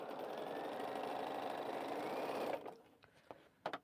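Sewing machine stitching quilt fabric pieces runs in a fast steady close whir for a couple of seconds, then stops, followed by a few faint clicks and handling sounds.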